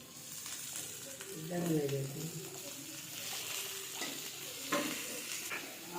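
Cut pumpkin pieces sizzle and fry in a pan while being stirred, with scraping clinks of a utensil against the metal and a low steady hiss, fairly close and moderately quiet, under some faint talk.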